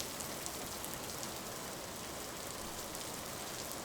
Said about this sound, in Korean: 조금씩 빗소리가 작아지더니 이윽고 비가 그쳤어요.